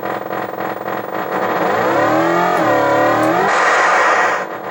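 Synthesized engine whine from an Atari Sprint 2 arcade racing game, a loud continuous buzzy tone that rises in pitch, drops sharply, then climbs again as first gear is run on a repaired board, with no talking.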